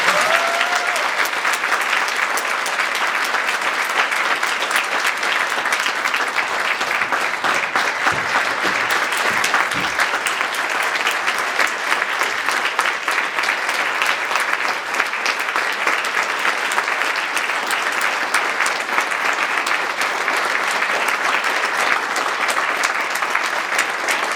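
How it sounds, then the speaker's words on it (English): A live audience at a talk breaks into sustained applause that fills the room, a steady dense patter of many hands clapping at even loudness for over twenty seconds. "Can I get a quick round of applause for"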